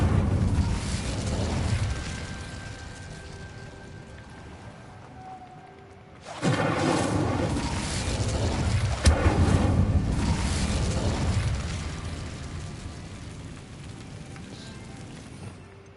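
Incendio fire spell from the video game Hogwarts Legacy, a sudden loud roaring whoosh of flame that bursts in after a quieter stretch, crackles and rumbles for several seconds, then gradually fades into a softer background roar.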